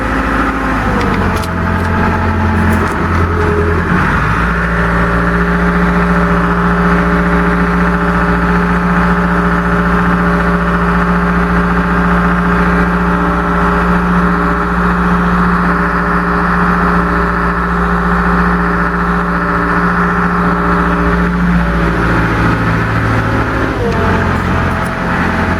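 A car engine idles during an oil change, a loud, steady low drone with constant harmonic hum that holds for the whole stretch and shifts slightly near the start and end.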